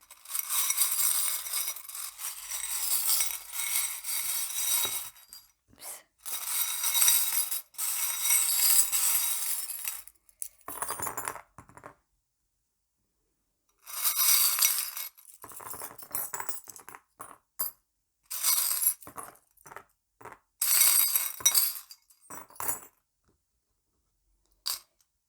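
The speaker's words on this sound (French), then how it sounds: "Et donc je vais mélanger les breloques" Small metal and glass charms clink and jangle as they are shuffled for a cartomancy throw, in bursts of busy chinking broken by short silences, close and bright, with no talk.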